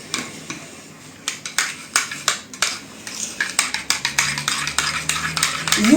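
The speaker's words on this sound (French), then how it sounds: "On remue bien." A potato mixture seasoned with salt and chili being stirred in a bowl, a run of rhythmic scraping and clinking utensil strokes, close and distinct, with no speech.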